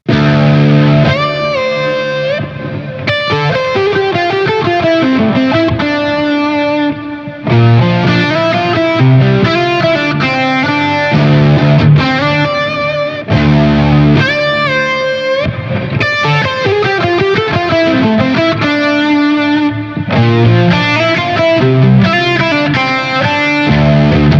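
A distorted, high-gain electric guitar, boosted by a BK Butler tube driver, plays a sustained lead line with bent notes and chords, loud and continuous with brief pauses between phrases.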